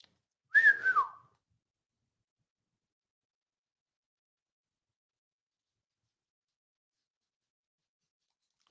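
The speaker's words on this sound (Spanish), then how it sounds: "Yo solamente silbé." A single short whistle from a person, rising then sliding downward, followed by a long silence.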